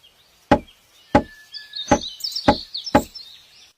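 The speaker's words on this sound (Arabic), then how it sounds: "إنه ليس طرقا على الباب، بل هذا نقار الخشب يبحث عن عشائه." A woodpecker hammers on wood while foraging, five sharp knocks spaced about half a second apart with thin bird chirps twittering behind the later strikes.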